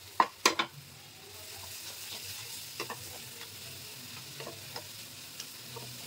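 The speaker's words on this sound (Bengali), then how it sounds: "পেঁয়াজটা কতক্ষণ ফ্রাই হোক" Onions fry in mustard oil in a pan, a soft steady sizzle with a few sharp clinks of a utensil at the start and light stirring taps later, quiet and close, no voices.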